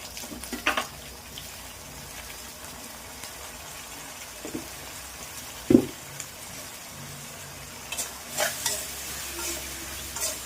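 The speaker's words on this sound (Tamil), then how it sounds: "தக்காளி நல்லா வதங்கணும்" Tomatoes and garlic sauté in a pan for poondu milagu kuzhambu, a faint low sizzle with a few scattered stirring knocks and scrapes.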